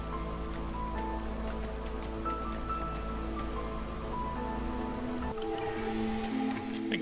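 Drizzling rain in the city-building game Against the Storm patters steadily over layered in-game ambience and soft tonal music, with no talk.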